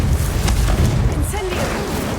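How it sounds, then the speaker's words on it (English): The explosive Confringo spell cast at Devil's Snare in Hogwarts Legacy: a loud, deep boom with a sustained rumbling tail that fills the whole moment, and a faint whistling tone trailing off near the end. "Confringo!"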